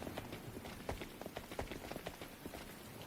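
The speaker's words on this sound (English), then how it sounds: "melted away into the sound of the rain pouring down" Rain pouring down in the video game The Hundred Line: a steady, dense hiss of falling water with scattered sharper drop hits, moderately loud and continuous, no voices.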